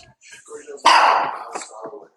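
A dog barks once sharply at close range, followed by a few softer yips, with people talking around it.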